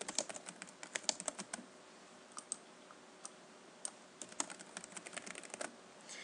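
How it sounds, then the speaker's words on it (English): Fingers typing on a computer keyboard while editing text in an HTML editor, a quiet close-up run of irregular key clicks in bursts with short pauses between them. "and begin typing in that area."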